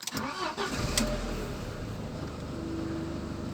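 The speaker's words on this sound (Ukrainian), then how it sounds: "Так, включаю зажигання. Заводимо машину." An Audi A4 engine cranks briefly and catches, then settles into a steady idle that holds at an even level to the end, close and alone with no talk.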